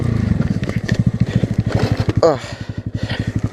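A Honda Grom motorcycle runs close by on a snowy road in Sweden after a crash, its small engine chugging in a fast, even pulse that briefly rises in pitch, with a voice coming over it.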